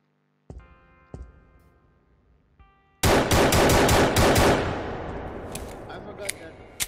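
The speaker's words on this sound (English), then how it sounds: "shoot the landmine, or you can shoot the turret" Gunfire in a Unity first-person shooter game as the player shoots a landmine and a turret: a few sharp isolated shots with ringing tails, then a loud rapid burst of automatic fire with decaying echoes and scattered later shots.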